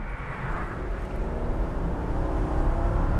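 Rolls-Royce Dawn convertible running with a muted engine and exhaust note, a steady, smooth low rumble blended with road and wind noise that holds even and unbroken throughout.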